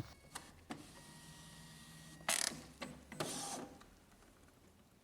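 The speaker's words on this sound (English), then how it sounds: "It will print the test sheet. It could take a few seconds." An Epson XP-2100 inkjet printer printing a nozzle check test sheet on plain A4 paper: quiet whirring of the mechanism and carriage with a few clicks and two louder bursts of paper-feed motion.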